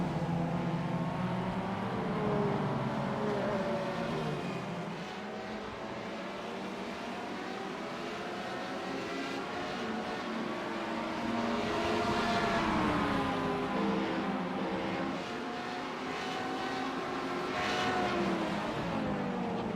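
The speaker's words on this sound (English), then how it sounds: "This here car goes by" Race cars at the Daytona road course, including a TCR car and Radical prototypes, roar past continuously, with engine tones rising and falling as they pass. The sound is loud and sustained, with no talk.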